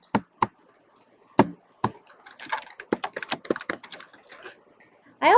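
Keystrokes on a computer keyboard while entering a calendar note in Microsoft Publisher, starting as a few separate taps and then turning into a quick, uneven burst of typing close by, with no speech.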